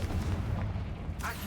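Confringo blasting spell cast in the video game Hogwarts Legacy, a single heavy booming blast with a deep rumbling body and a short crackling tail.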